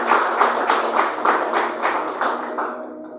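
A congregation claps in unison in church, a steady rhythmic beat of many hands filling the room, loud and close, fading slightly at the end.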